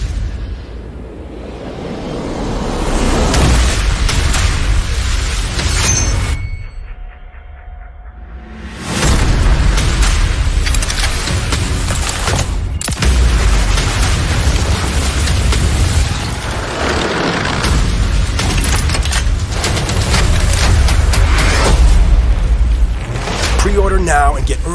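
Bomb explosions in a Call of Duty Vanguard trailer, heavy booming blasts and rumbling impacts layered with dense score and effects, loud throughout, broken by a brief near-silent gap before the barrage resumes.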